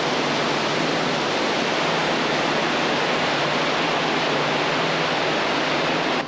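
A waterfall in snowy Iceland, a loud, steady, uninterrupted roar of pounding water that fills the whole clip with no voices.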